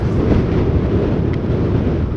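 Strong wind buffets the microphone during a two-wheeler ride past green paddy fields, a steady, loud rushing roar filling the whole stretch with no voices.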